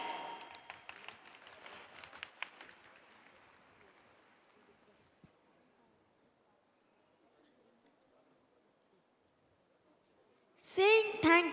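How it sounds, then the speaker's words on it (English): Audience at a school annual day event applauding participants in all categories, with clapping fading out over a few seconds to near silence before a voice briefly speaks. "a big round of applause for participants in all categories"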